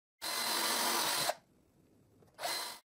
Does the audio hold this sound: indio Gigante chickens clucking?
no